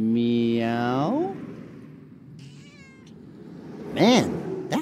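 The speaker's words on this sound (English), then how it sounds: "that cat sounds just like Matt when he retches" A video game cat meows loudly with a drawn-out, wavering cry, followed by a shorter second meow after a quiet pause.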